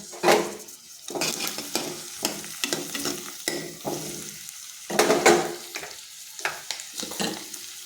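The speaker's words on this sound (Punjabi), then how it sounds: "ਇਧਰ ਆਪਣੇ ਪਿਆਜ਼ ਭੁੱਜ ਚੁੱਕਿਆ" Onions and green chillies fry in a pan, with a crackling sizzle broken by repeated scraping and clinking strokes of a stirring utensil, close up and with no talking.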